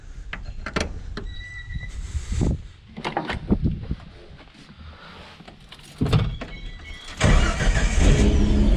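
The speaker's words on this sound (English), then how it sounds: "Starts up no problem now." A Jeep Cherokee with Renix ignition cranks with a few whirring turns, then catches and starts, settling into a steady close idle after brief rattles and clunks beforehand.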